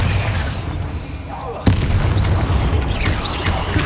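A Bombarda spell explosion in the video game Hogwarts Legacy lands as one sharp boom midway, set against a busy combat din with scattered magical whooshes, and voices are present.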